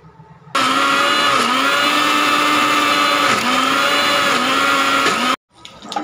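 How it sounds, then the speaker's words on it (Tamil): A mixer grinder blends amman pacharisi chutney with a little water, giving a loud, steady whirring that starts abruptly, runs for about five seconds, then cuts off sharply. "லைட்டாக தண்ணி ஊற்றி க்ளீனாக அரைச்சி எடுத்துடலாம்"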